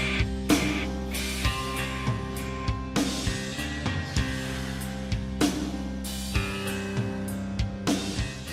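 Clean electric guitar riff from a song, played as a full band recording with bass and drums, a steady moody groove with accented hits recurring every couple of seconds, no talking.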